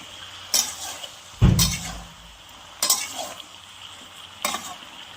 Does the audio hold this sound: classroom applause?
no